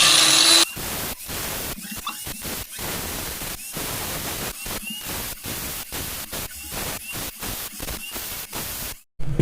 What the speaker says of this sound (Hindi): देख लीजिए हम कैसे अपने ग्राइंडर को स्टार्ट करते हैं।